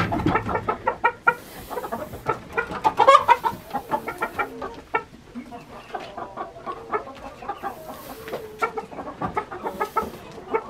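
Several young hens cluck and chatter close by in an irregular, busy stream of short calls, with no talking.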